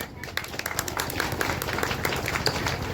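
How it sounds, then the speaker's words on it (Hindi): An audience at a meeting claps along to a song in quick, steady rhythm, many hands together, moderately loud, with voices underneath. "थोड़ा तालियों के साथ देंगे।"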